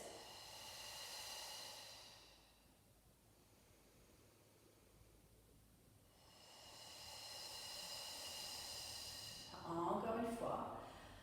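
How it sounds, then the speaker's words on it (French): Slow, deep breaths in and out during a gentle shoulder-raising exercise in a beginner class, heard as long, close, airy swells that rise and fall one after another. "Longue inspire pour lever les épaules. Et on expire, on baisse."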